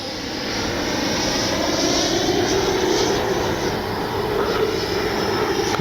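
An FMS Avanti S 90mm electric ducted fan RC jet, flown by with retracts and landing flaps deployed, whooshes past as a steady, loud, full turbine-like whine that holds for several seconds, with no one speaking.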